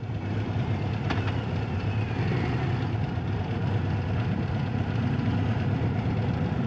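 A 2025 Harley-Davidson Road Glide ST CVO idling with a low, steady rumble that holds even and continuous throughout, heavy bass throb with no speech.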